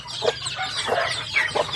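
Backyard farm chickens cluck in short, close bursts, three or four distinct calls over a steady outdoor hiss.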